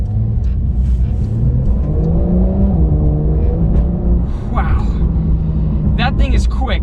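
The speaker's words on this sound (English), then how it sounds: "Driving the brand new Porsche 911." A 2021 Porsche 911 engine revs and climbs in pitch as it accelerates, a steady interior rumble underneath, with bits of talking mixed in.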